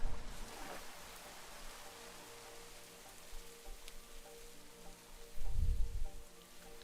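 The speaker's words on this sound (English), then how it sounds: "We're in rain area, so we're not going to escape the rain." Rain falls steadily in a Minecraft world, a soft, constant hiss under low ambient tones, with a heavier rumbling swell near the end, no one speaking.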